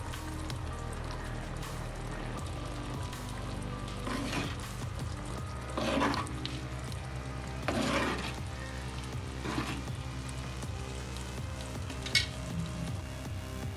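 A pan of prawn curry bubbles and sizzles steadily up close, with occasional louder pops and clinks over a constant low hum.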